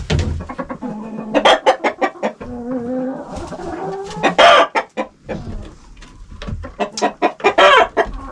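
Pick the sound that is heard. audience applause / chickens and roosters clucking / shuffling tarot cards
chickens and roosters clucking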